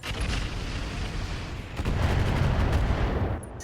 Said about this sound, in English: I'm only going to fire the long fire here, I think.